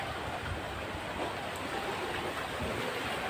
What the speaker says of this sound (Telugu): దాని వాటర్ చూడండి ఎంత ఫ్లోగా వెళ్ళిపోతుందో